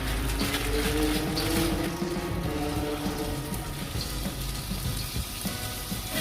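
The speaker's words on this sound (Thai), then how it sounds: "เราก็จะมาผัดเส้นโซบะเจของเรานะคะ" Soba noodles stir-frying in a pan with a little oil, giving a steady moderate sizzle with light scraping, continuous and close, with no talk over it.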